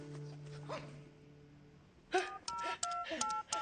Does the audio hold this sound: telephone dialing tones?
yes